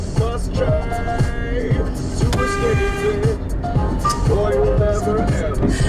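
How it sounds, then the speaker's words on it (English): Several car horn toots sound over a busy mix of music and talking, short bright honks recurring through the noise. "I'm gonna honk at them."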